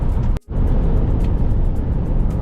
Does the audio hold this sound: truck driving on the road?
yes